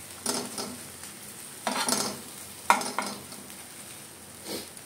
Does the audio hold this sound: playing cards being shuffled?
no